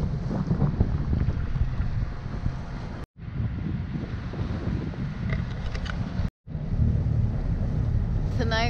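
Wind buffets the microphone in a continuous rough roar at a ferry dock in Sardinia, with water sloshing and a faint voice in the background.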